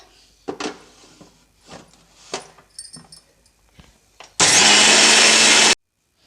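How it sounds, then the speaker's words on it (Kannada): A mixer grinder whirs loudly for about a second grinding soaked rice with water into dosa batter, a dense steady roar after scattered clinks and knocks of the jar being handled. "ಈಗ ಇದನ್ನ ಸಣ್ಣಗಾಗೋವರೆಗೂ ಗ್ರೈಂಡ್ ಮಾಡ್ಕೋಬೇಕು"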